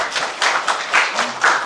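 Scattered hand clapping from several participants in a Zoom meeting, uneven bursts of claps over a short stretch, compressed and thin as if through computer microphones.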